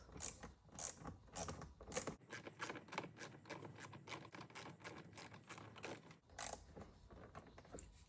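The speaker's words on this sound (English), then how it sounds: "this is a T20. Go ahead, turn it counterclockwise." A T20 torx screw on a Tesla Model Y or Model 3 is turned counterclockwise with a ratcheting driver, giving a rapid run of quiet, close clicks in a steady rhythm.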